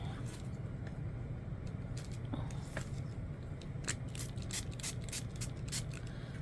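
A spray bottle spritzes onto ink during a card-crafting session, giving a series of short, crisp hissing bursts over a steady low room hum.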